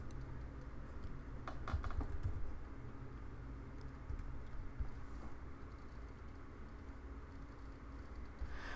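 Someone types an email on a computer keyboard, producing faint, quick patters of key clicks over a low background hum.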